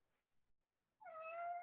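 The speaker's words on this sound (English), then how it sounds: "Can hear the kitty over there." A cat meows once, drawn out and fairly close, in a quiet indoor room, trying to get out; faint soft noises come just before the cry.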